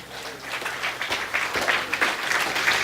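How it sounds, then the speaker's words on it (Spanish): A church congregation applauds the Lord mid-sermon, clapping that starts moderately and swells into a fuller, sustained round with no voices on top. "Dele un aplauso al Señor"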